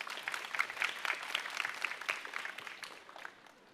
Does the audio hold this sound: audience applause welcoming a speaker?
yes